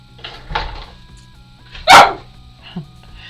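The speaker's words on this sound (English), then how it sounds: "Sorry, she's gonna bark." A pet dog barks a couple of times nearby during a hobby model-building session, one sharp loud bark standing out with a softer yelp after, over quiet room tone.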